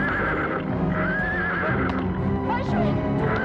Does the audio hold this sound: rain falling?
no